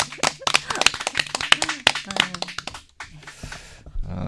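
Live audience at a public broadcast of a Korean poetry program claps in a loose run of distinct, near handclaps, with a voice talking between and over the claps before they fade out.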